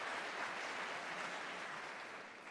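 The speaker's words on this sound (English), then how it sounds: "Yeah, that deserves applause" Audience applause at a UCP leadership debate in Calgary, a dense, steady wash of clapping from a crowd that fades slightly toward the end, no voices.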